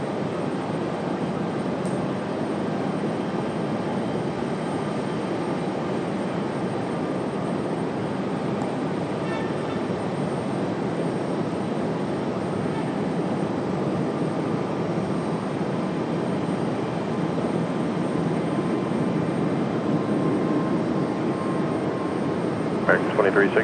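An American airliner taking off from runway 23 right at Raleigh Durham International, a broad, steady engine roar that stays constant and fairly distant throughout, with no clear rise or fade.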